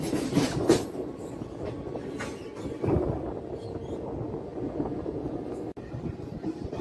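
A MEMU passenger train rolls along the tracks near Peddapalli Junction, a steady rumbling clatter with rhythmic wheel clicks and brief louder bursts, heard from onboard, with no voices.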